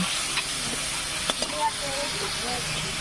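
Spices frying in mustard oil with panch phoron and bay leaf give a steady hiss and sizzle, with a few light stirring scrapes now and then.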